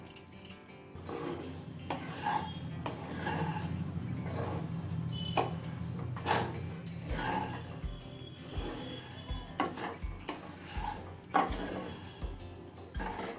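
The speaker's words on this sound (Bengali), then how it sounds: "চিনি গুঁড়োটা দিয়েও মিশিয়ে নিলাম" Oats, vegetables and powdered sugar stirred together in a pan for oats pulao, giving a steady close scraping and rubbing with light clinks of a utensil against the pan throughout.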